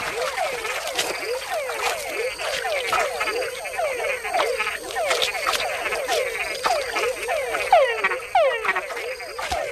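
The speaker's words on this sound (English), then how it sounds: "with other bigger frogs nearby, a call can be a fatal attraction." Frogs in a Panama rainforest croak in a dense, overlapping chorus of quick, chirping calls that repeat rapidly and close by for the whole stretch.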